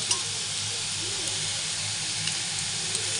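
Boiled lentils frying in a pan, giving a continuous close hiss and sizzle with a few faint clinks.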